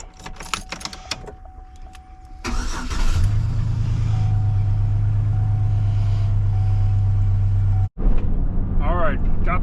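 After some rattling and clicks, a truck engine starts and idles steadily and loudly close by, freshly repaired after an oxygen sensor fault. The idle drops out briefly near the end, followed by more handling noises.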